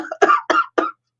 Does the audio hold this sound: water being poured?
no